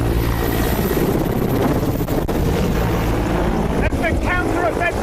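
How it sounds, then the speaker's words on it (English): Ukrainian attack helicopters fly low toward the front lines, a steady loud rotor and engine roar with wind buffeting that fills the whole clip, and a few faint chirping tones near the end. "these Ukrainian attack helicopters are flying down to the front lines a short distance away"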